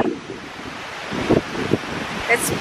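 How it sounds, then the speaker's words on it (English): Strong wind blows across an outdoor view deck, a steady broadband rush with a few sharper gusts, and faint voices briefly show through. "Super windy."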